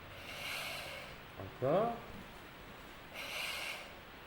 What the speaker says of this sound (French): Maintenant vous reniflez.